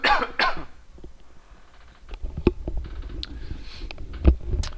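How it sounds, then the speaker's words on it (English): Two sharp, close coughs during an online Go game commentary, followed by quieter clicks and small bumps. "oops, I have to cough"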